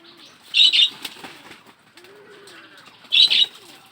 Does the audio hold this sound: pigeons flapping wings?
yes